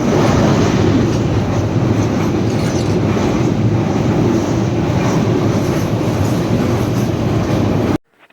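Steady rumble and clatter of a passenger train travelling at night, loud and continuous from inside the carriage, with rolling wheel noise throughout before cutting off abruptly at the end.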